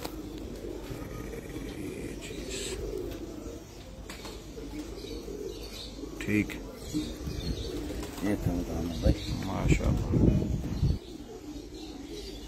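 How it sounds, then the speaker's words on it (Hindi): Pigeons coo softly amid outdoor bustle on a Dubai rooftop, with someone speaking briefly and some wing flutters and thumps growing busier toward the end. "और ये कबूतर माशाल्लाह लाजम हमारा पूरा कबूतरों के अंदर होना मानते है"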